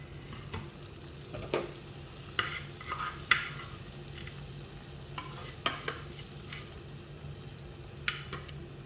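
Coconut pieces, pumpkin seeds and raisins fried in ghee are tipped into a pumpkin and chana dal payasam, giving a steady soft sizzle with scattered clinks and stirring scrapes, close and continuous, with no voices.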